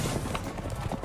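Rapid hoofbeats of horses galloping in a video game, A Way Out, a steady clattering rhythm close by over a busy, noisy background.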